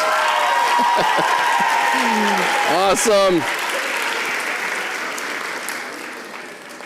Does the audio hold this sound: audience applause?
yes